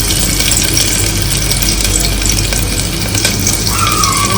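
Garlic and cumin seeds sizzle loudly in hot oil, a steady dense frying hiss with faint scraping stirs throughout, close up and alone.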